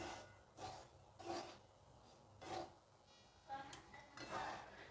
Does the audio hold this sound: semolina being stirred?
yes